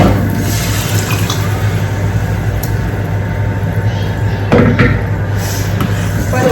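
Water runs steadily into a cooking pot of urad dal that was just tempered in a little oil, a continuous close pour with no talking.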